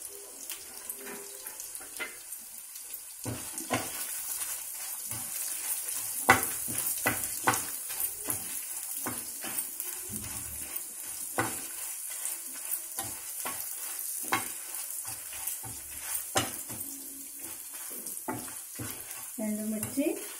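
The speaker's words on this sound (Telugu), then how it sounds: "ఎండుమిర్చి, ధనియాలు, జీలకర్ర ఇలా వేయించుకోవాలి." Dry red chillies, coriander seeds and cumin roast in a spoonful of oil in a pan, making a soft continuous sizzle broken by frequent scraping stir strokes, with no talk.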